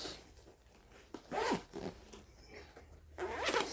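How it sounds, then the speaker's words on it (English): A fanny pack's zipper being opened, heard as two quick, close rasping zip strokes separated by brief handling rustles. "There's also a zipper on the inside, which I didn't see."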